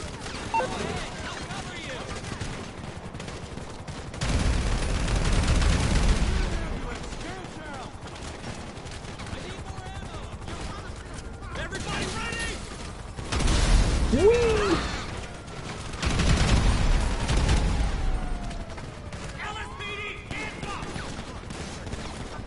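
Gunfire in GTA 5, bursts of rapid shots and booming explosions in three loud waves separated by quieter stretches of game sound and scattered pops.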